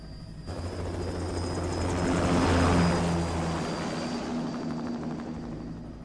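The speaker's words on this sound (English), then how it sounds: "Commencing takeoff in semi-auto mode." An aircraft taking off in the Metal Gear Rising video game, a steady engine roar with a rumbling low drone that swells in the middle and eases off, without speech.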